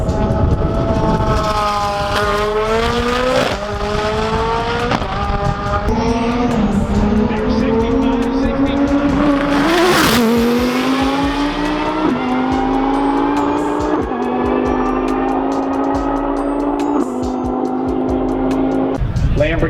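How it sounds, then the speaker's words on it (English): A Lamborghini Huracan STO roll racing at a trackside drag event, its engine wailing loud and close, with rising pitch through repeated upshifts and a sustained high-revving scream throughout. "I see a HURACAN STO being rolled and doing the roll racing"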